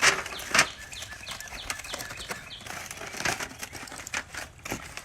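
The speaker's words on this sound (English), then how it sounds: "so this is double wrapped in foil, and you want to be careful when you're undoing" Aluminium foil crinkles and crackles as a double foil wrap is peeled back from a smoked pork shoulder on a Big Green Egg grill. The rustling is close and comes in irregular bursts, louder at the start, with no talk.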